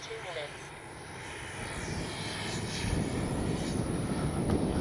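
Arrows RC F-15 64mm electric ducted fan model jet flying past, a steady broadband whooshing roar that swells louder toward the end, with a faint voice now and then.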